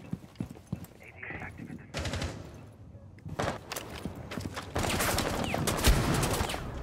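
Bursts of enemy gunfire pre-firing in Rainbow Six Siege on the Favela map, sharp cracking volleys in several clusters that grow heavier toward the end, with a player talking over them.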